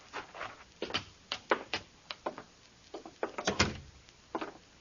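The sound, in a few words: door opening, radio drama sound effect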